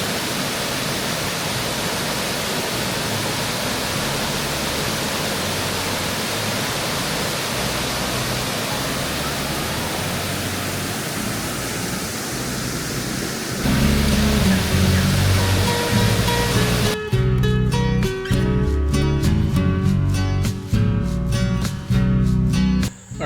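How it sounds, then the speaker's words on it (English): Dingmans Falls waterfall rushing as a dense, steady roar of broadband water noise. About thirteen seconds in, the sound grows louder and more rumbling, and louder music joins near the end. "Listen to those falls."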